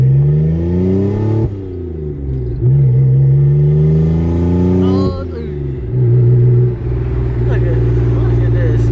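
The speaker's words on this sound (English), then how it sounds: "Just enjoy the wind noise and the exhaust tone." A Mitsubishi GTO/3000GT with a new downpipe and open exhaust drones steadily while driving, its tone rising and falling with throttle changes over a constant wind rush, with voices talking over it.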